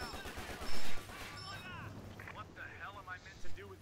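Machine guns fire in the Company of Heroes strategy game as short loud bursts amid battle noise, while several players talk over the action.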